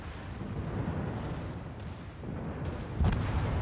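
Warship guns fire in a naval battle game, heard as deep, rumbling artillery booms under a continuous low roar, with one heavier blast toward the end.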